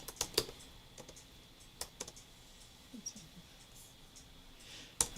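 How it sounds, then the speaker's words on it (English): Sparse keystrokes on a computer keyboard, a few isolated clicks spread out over several seconds, quiet and close against a faint room background. "I can't talk and type at the same time."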